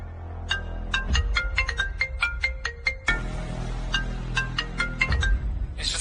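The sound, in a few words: phone ringtone ringing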